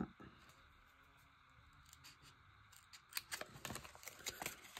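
Paper being cut with scissors for a homemade art collage: a quiet stretch, then a run of crisp, irregular snips and rustles growing louder near the end, with no voice.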